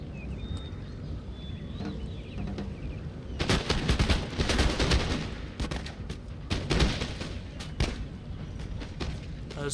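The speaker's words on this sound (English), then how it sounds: "There's a good volley there." Musket volleys in the Napoleonic-era strategy game Napoleon: Total War, bursts of crackling massed gunfire rolling across the battlefield in several waves over a low battle din, with no talking.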